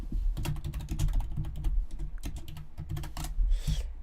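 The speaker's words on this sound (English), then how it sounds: "I'm sorry that you can hear the typing sounds." Rapid clicking of a computer keyboard picked up by a microphone resting on the same table, with bursts of keystrokes and short pauses, close and clear with no voices.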